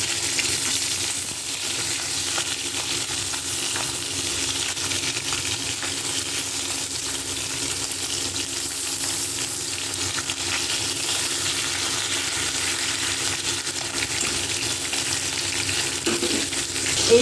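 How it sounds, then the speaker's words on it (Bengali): Pieces of shol fish fry lightly in oil in a kadai, making a loud, continuous crackling sizzle that holds steady for the whole stretch, with no talking. "মাছটাকে আমি খুব বেশি লাল লাল করে ভাজবো না, হালকা করে ভাজবো"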